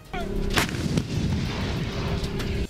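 Artillery cannons fire during a military drill, one heavy booming blast near the start followed by a sustained roar and rumble of gunfire across the open area, loud and close.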